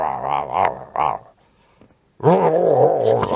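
A boxer dog growls loudly and close by in wavering, voiced bursts, with a short silent gap in the middle before a longer, rumbling growl.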